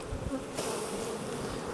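Honeybees buzz loudly and continuously at close range as they are shaken off a brood frame from a hive with a drone-laying queen, with a sharp swell of agitated noise partway through.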